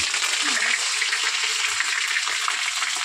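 Ginger and garlic paste hits hot oil with whole garam masala for chili chicken, giving a continuous close, even sizzle and hiss for a few seconds, no voices over it.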